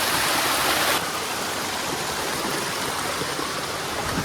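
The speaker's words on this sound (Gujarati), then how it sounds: "આ ઝરણાના બીચોબીચ વચ્ચેથી અત્યારે આપણે પસાર થઈ રહ્યા છે." A forest stream flowing between rocks near Khuniya Mahadev waterfall at Pavagadh, a steady close rushing of water with a slightly louder burst at the start, no voices.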